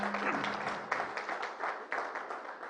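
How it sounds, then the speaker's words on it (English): An audience at an HR and TPO conclave applauds a guest, with broad, sustained clapping from many people in a hall, steady and fairly loud throughout. "Please, big round of applause"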